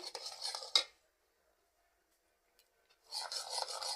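Rice flour being added and stirred in a pot of batter for pura pithe, heard as two bursts of bright scraping and rubbing, one at the start and one at the end, separated by near silence.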